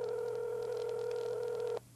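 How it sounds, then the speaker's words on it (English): A telephone dials out with a steady, loud electronic tone held for nearly two seconds and then cut off abruptly, leaving a quieter hum behind, with no voices. "I'm going to give Matt a call and see what he's up to."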